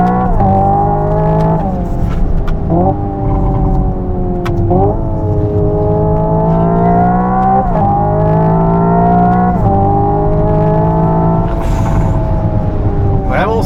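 Hyundai Ioniq 5 N, a 650 hp electric car, plays a synthetic engine sound while driving, its pitch climbing in repeated surges then dropping sharply as with simulated gear shifts, loud and continuous.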